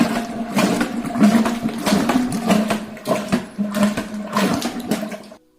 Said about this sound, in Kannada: ಇವಾಗ ಮಜ್ಜಿಗೆನ ಆಡಿಸ್ಕೊಳ್ಳೋಣ.